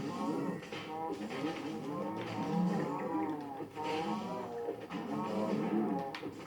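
Several cows moo repeatedly in the Minecraft Dungeons video game, loud and overlapping with drawn-out calls, alongside game sounds.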